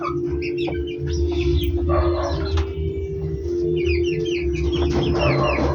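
Laying hens in a coop, one clucking as she lays an egg: repeated short clucks and croaky calls from several nearby birds over a steady low hum.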